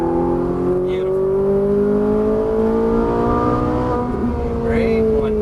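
Ferrari 458 Italia V8 pulling hard on a racetrack, a loud steady engine roar with climbing tones heard from the cabin, with an instructor's voice speaking over it.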